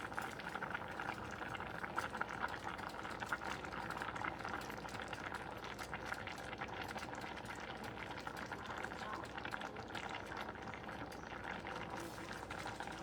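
Water boiling down in a pot on a stovetop while a Caribbean dish cooks, a steady faint bubbling and hissing that carries on without pause throughout.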